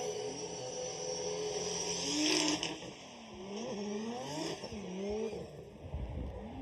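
Drift car at Formula Drift Japan qualifying on Suzuka Twin Circuit, its engine revving and bouncing through rapid pitch swings as it slides through transitions, with a sustained loud roar and a brief surge of tire noise midway.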